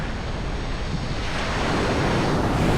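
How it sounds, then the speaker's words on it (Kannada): Sea waves wash and break steadily on the shore, a broad continuous roar with some wind noise across the microphone, no voices present. "ಅದಕ್ಕೆ ಸಮುದ್ರನ ಪೀಸ್ಫುಲ್ ಆಗಿರೋದು ಅನ್ನೋದು"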